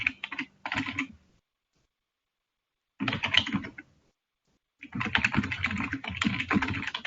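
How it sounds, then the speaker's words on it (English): Computer keyboard typing in bursts on a conference call: a short flurry at the start, another around three seconds, then steady continuous keystrokes for the final two seconds, with silence in between. "there's some typing in the background"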